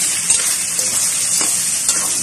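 Eggs with carrots and cabbage fry and are stirred in a pan, giving a steady loud sizzle with a few soft scraping bumps from the stirring.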